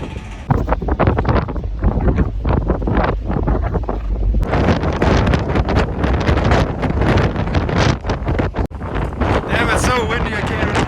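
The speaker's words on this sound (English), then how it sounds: "it's so windy I can't even hold the phone camera still." Strong wind buffets a phone microphone on the deck of a BC ferry, a loud continuous roar with gusty rumble that surges louder partway through, with the ship's engine drone underneath.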